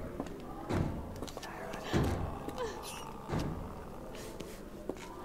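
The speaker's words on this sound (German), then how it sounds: "irgendeiner haut anscheinend gegen die Tür" Someone pounds on a door in the asylum of the Sherlock Holmes game The Awakened, giving three heavy, evenly spaced thuds, faint and distant, while a voice talks over them.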